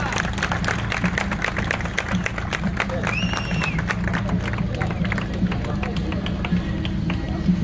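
A crowd at an autumn auto tuning show in Deva applauds a third-place car garage, with scattered claps and cheering over a low engine-like rumble and some voices in the background.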